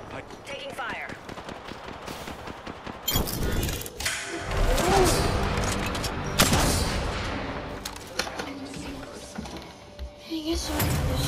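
Apex Legends gunfire rattles in sustained bursts and scattered shots, loud and close, with game sounds and a voice talking over parts of it.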